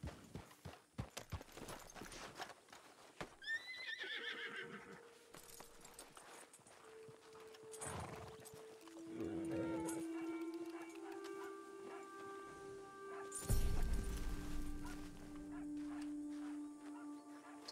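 Horse hooves clip-clopping in Red Dead Online, steady footfalls with a few sharper skidding movements amid game ambience, music tones and a brief snort-like burst near the end, no neigh clearly standing out.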